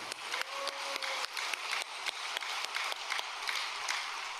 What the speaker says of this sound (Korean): 우리 아깨미 어머니를 위해서 우리 박수 한번 올려야 될 것 같습니다